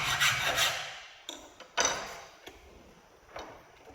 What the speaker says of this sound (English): There's a little edge on this that hole, so we're just going to take that off.